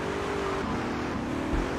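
A car speeds past in a video game, a steady engine roar that holds throughout the short moment, fairly loud with no talk over it.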